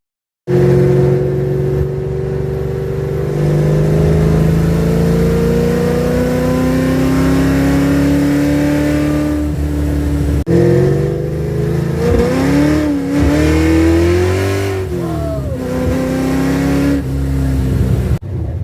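An old project car, parked since 1999 and now driven again, revs hard up to about 4,500 RPM. The engine roars loud and close, rising steadily, then swells and falls in repeated throttle blips.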